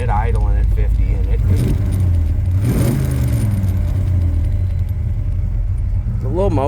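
A warmed-up 1976 Chevy Nova idles steadily with a low, even rumble under nearby talking, its small motor holding a constant note throughout.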